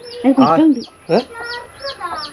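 Backyard chickens being fed compost grubs cluck in close, loud bursts, several calls in quick succession with quieter clucks trailing after, and a voice speaks at moments.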